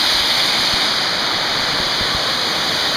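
A waterfall in the Finger Lakes region roars as a steady, dense rush of falling water, loud and constant with no pauses or voices.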